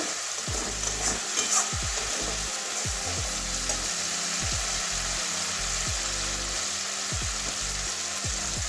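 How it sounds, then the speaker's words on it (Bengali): Spice paste sizzles in oil in a pan while a spoon stirs it, the steady frying hiss broken by regular scraping strokes and clinks. "এবারে মশলাটা আগে ভালো করে কষিয়ে নেব।"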